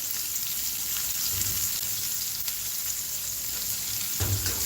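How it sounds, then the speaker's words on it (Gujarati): Curry leaves sizzle in hot oil while poha and potatoes are cooked hotel style, giving a dense, even crackling hiss that runs throughout, with a few soft low knocks near the end and no talk. "મીઠા લીમડાના પાન પણ આપણે અત્યારે જ એડ કરશું"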